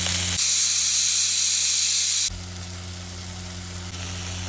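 Onion sautés in a hot pan for a green gram (cherupayar) curry, giving a loud steady sizzle that drops to a softer hiss partway through, with no talking.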